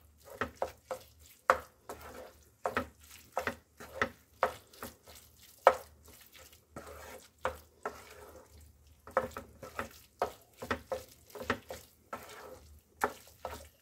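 Chicken keema is stirred and mixed in a pan with a spoon, giving repeated short scraping and clacking strokes in an uneven rhythm, close and fairly quiet, with near silence between strokes and no talking.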